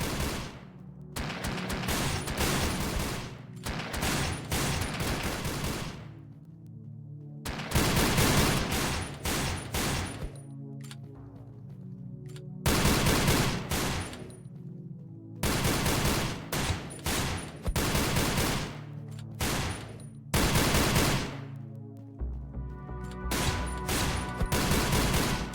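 Ranged enemies in an indie video game fire guns in loud, sustained bursts of rapid gunfire, separated by short silent gaps, with no speech.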